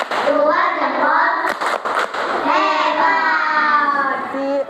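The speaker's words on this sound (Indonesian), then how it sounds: "kita beri tepuk jempol dulu untuk kelompok 4" Group of schoolchildren in an Indonesian classroom performing a thumb-clap cheer, chanting together in a sing-song rhythm with a few sharp claps mixed in, loud and close.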